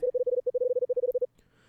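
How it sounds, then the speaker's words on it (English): A telephone rings in the Last Window: The Secret of Cape West video game, a clear electronic trill of rapid, even pulses in short groups that stops abruptly, followed by quiet. "Now the phone's ringing."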